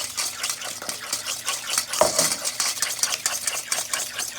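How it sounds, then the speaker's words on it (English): A fork whisks chocolate chip cookie batter in a bowl, rapid rhythmic scraping and tapping strokes repeating steadily close up, with one sharper knock partway through. "whisk with a fork"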